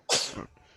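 A single sharp sneeze bursts out close by, followed by a brief breathy tail.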